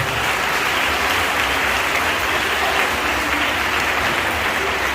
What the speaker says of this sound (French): Ils vont se mettre debout, on va les acclamer.